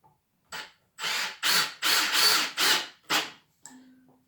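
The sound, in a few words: Milwaukee M18 brushless drill/driver running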